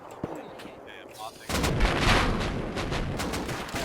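Gunfire in the online survival game Rust, scattered shots at first, then a dense, loud barrage of rapid reports and explosions that continues to the end.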